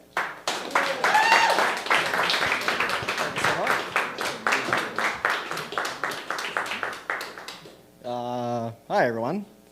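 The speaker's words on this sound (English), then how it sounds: "Everyone, big round of applause for Devin." An audience at a stand-up comedy open mic claps and cheers in a loud burst of irregular claps that fades, followed by a short sung or voiced tone near the end.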